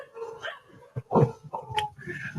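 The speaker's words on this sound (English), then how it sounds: "The dogs are going off." Dogs at a house barking in short, loud bursts, with some yips and whimpers mixed in.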